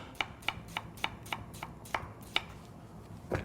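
A knife julienning a peeled yellow sweet onion on a cutting board gives about eleven crisp, evenly spaced chops, close and clear with no talk.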